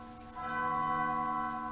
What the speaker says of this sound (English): where did the bell come from?